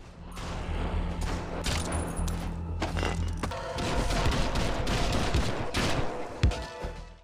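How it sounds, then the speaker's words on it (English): Assault rifle, pistol and revolver fire in the video game Drop Dead The Cabin, heard as rapid muffled bursts and single thumping shots with mechanical clacks, fairly quiet and dull. "The assault rifle doesn't sound too bad, but the pistol and revolver sound so deafened."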